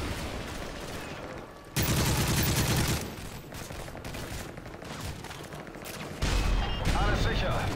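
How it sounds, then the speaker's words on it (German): Gunfire in the video game Call of Duty: Modern Warfare 3, dense bursts of shots and explosions at a loud, steady level with sudden surges, game sound without talk over it. "Ich höre immer Schüsse."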